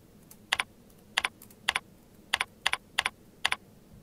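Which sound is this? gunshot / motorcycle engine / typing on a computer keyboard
typing on a computer keyboard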